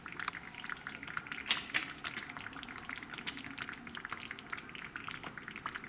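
Cornmeal (mayi moulen) cooks in a pot, giving a faint, steady bubbling and crackling simmer with small irregular pops throughout. No voices are heard.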